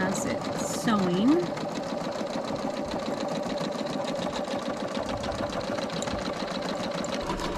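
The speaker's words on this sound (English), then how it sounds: "I have found with the Quantum Stylus that this actually is a nice little embroidery machine" A Quantum Stylus embroidery machine stitches lettering with a steady, fast mechanical whir and rhythmic needle chatter, close and continuous throughout, while a person talks over it.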